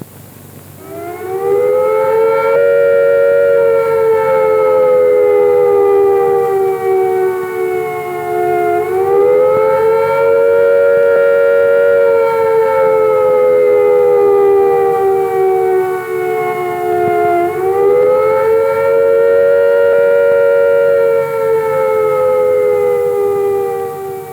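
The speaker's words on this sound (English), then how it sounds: "If an attack is expected, the sirens will sound a rising and falling note like this." A loud civil defence attack warning siren wails steadily, its pitch rising and falling in long slow sweeps, heard alone with no voices.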